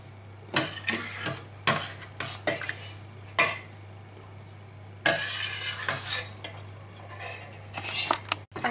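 Meat is placed into a baking dish for Valencian baked rice, with scattered clinks, scrapes and thuds of utensils against the dish, fairly close and intermittent, with a faint steady hum beneath.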